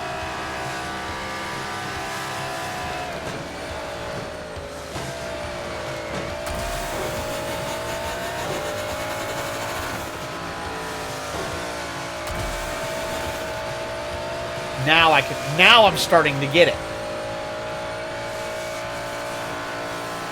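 Car engine droning steadily in a racing video game, with a brief burst of tire skidding squeals near the end as the car slides through a corner; a voice speaks briefly.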